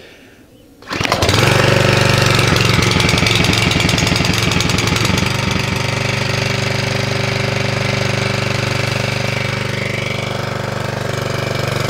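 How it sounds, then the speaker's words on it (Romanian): Quiet at first, then an O'Mac MP 2500 motor water pump engine starts with a rope pull and runs at a loud, steady, throbbing idle. It is close up and continues for the rest of the time. "Sper să pornească, să se amorseze și apa o dau aici pe gazon."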